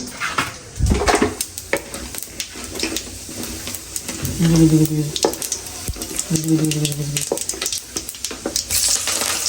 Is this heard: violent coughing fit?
no